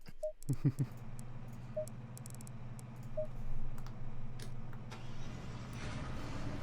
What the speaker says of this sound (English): I love the sound on the grid when people start up their engines